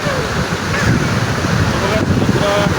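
Sea waves wash onto a beach in a constant loud surge mixed with wind buffeting the microphone, while people talk close by.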